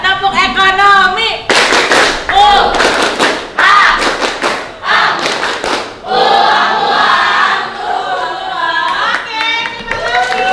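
Indonesian schoolchildren in a classroom perform the rhythmic group clap known as tepuk ekonomi, loud bursts of clapping and thumping in patterned rhythm mixed with their chanting voices throughout.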